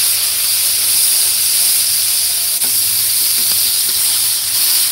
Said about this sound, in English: got all that bacon grease in here. Gonna throw down these onions that I just diced up.